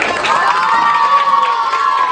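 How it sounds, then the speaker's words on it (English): Students in a school debate event cheering and shouting as a crowd, a continuous high-pitched mix of young voices with clapping underneath, loud and steady throughout. "Clap for them."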